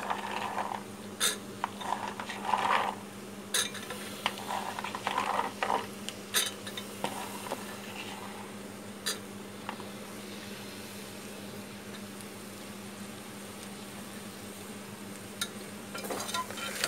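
Peas and vegetables fry in masala in a pot for veg biryani, with a low sizzle under repeated scraping and clinking of a spoon against the pan, busier early and quieter later.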